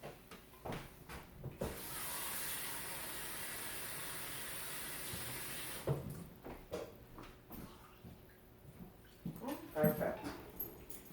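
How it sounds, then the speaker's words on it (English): Water poured into a pot of rice and pigeon peas makes a steady, rushing splash lasting about four seconds, bracketed by clinks and clatter of kitchen handling before and after. "put some water here, and then I add water to the pot"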